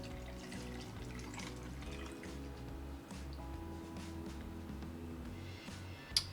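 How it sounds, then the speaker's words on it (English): Brine pours into a jar packed with small pickling cucumbers and garlic, making a steady close trickle and gurgle of liquid with no talking. "So now we're just gonna add our brine to this"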